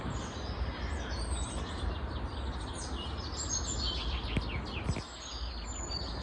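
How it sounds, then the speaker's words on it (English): Spring birdsong in a forest: several birds chirp and trill at moderate distance over a soft, steady outdoor background, with no talk. "So many bird sounds already."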